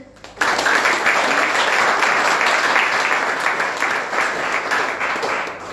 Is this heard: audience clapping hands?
yes